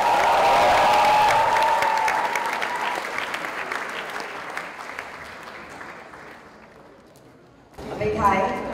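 Audience applause at the inauguration of an edutainment show, a loud crowd clapping with a faint voice over it, gradually fading before a brief burst of talk near the end.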